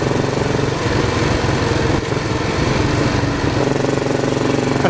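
A motorcycle engine hums steadily while riding on a new bike, a loud, continuous throbbing drone with even rhythm that dips briefly near the two-second mark before carrying on.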